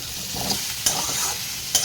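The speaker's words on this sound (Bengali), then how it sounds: "রসুনটাকে ভালো করে আগে ভেজে নেবো" Garlic stirred and fried in a pan for a home-style curry, a steady sizzle with a few sharp scraping stirs of the spatula, close and alone.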